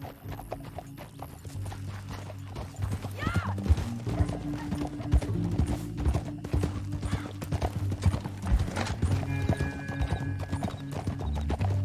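Rapid hooves gallop continuously across hard ground in Red Dead Redemption 2, with a horse whinnying partway through and a low, steady background hum.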